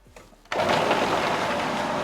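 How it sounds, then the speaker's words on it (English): A kitchen blender minces pieces of fish, starting abruptly after a brief pause and then running as a loud, steady whirring grind without letting up. "And now we mix it in the blender"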